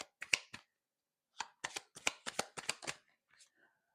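Oracle cards being shuffled by hand in short crisp bursts of riffling, a quick pair, a pause, then a rapid series of snappy flutters, close and quiet.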